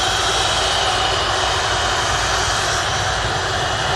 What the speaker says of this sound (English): Dewey Dreamliner from Montego Bay next in.